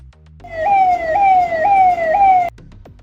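A fire engine siren wails loudly and close, rising and falling in four steady sweeps before cutting off abruptly, with a low engine rumble underneath.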